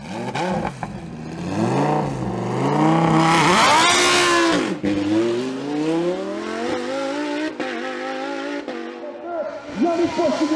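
Lamborghini Huracan Super Trofeo race car on a hill climb, engine loud and close, revving up through gears with rising and falling pitch sweeps before fading as it pulls away.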